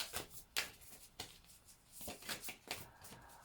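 Several quick rustling riffles and flicks of tarot cards being shuffled, close and crisp, in short bursts with brief pauses between them.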